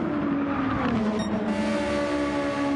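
Formula race cars in an online racing game, the Alfa Romeo and a Ferrari battling for position, engines droning steadily at high revs as cars pass close, loud and continuous without talk.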